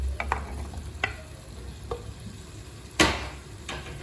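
Potato pieces fry in an onion and tomato masala, a steady low sizzle broken by sharp, scattered clanks and scrapes of a spoon stirring the pan, one louder scrape near the end; no voices.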